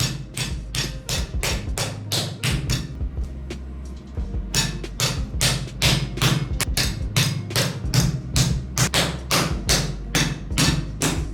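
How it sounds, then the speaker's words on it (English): A hand slaps a soft beef steak over and over to flatten it, producing a long run of close, dull thuds in a fairly steady rhythm, with a short pause partway through. "Since it is a soft meat, you can expand it by hitting it with your hand."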